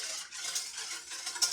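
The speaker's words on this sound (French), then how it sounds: "vous mélangez jusqu'à temps que votre sucre ait disparu" Sugar being stirred into a lemon tart mixture in a bowl, a soft, continuous scraping and swishing that is faint and close, with a light tap near the end.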